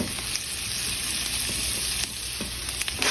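Squash frying in a skillet for a keto brunch: a steady close sizzle with crackling and a few light stirring scrapes throughout, no speech.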